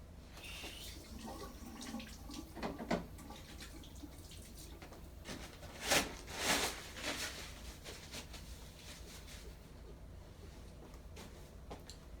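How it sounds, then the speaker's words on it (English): Steady running water from a sink tap while hands are washed, with a continuous hiss and brief louder splashes as the hands move under the flow. "I'm gonna go ahead and wash my hands"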